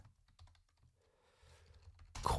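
Keys on a computer keyboard are tapped in short, irregular bursts, soft and close, with a louder clatter of rapid typing at the end and no voice.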